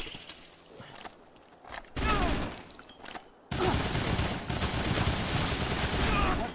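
Gunfire in Dead Rising comes in rapid bursts: a short volley, a pause, another brief burst, then a long sustained loud spray of shots close by, with faint voices underneath.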